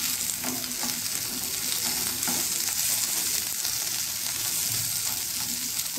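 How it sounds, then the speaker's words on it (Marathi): Okra (bhindi) shallow frying in a pan over a low gas flame, giving a steady, close sizzle with occasional stirring scrapes throughout. "ही भेंडी आपली शालो फ्राय झालेली आहे, व्यवस्थित कलर बघ आलेला आहे त्याला, बारीक गॅसवरतीच ठेवलेली"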